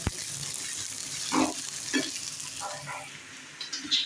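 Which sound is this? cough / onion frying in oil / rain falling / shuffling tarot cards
onion frying in oil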